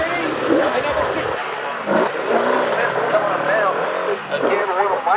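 Superbike motorcycles in an open superbike road race scream past one after another, engines rising and falling in pitch over several seconds while a commentator talks throughout.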